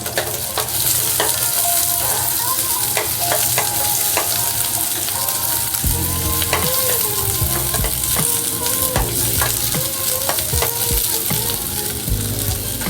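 Chopped onion and ginger fry hard in a pan, producing a dense, continuous loud sizzle with steady stirring scrapes and occasional spatula knocks throughout.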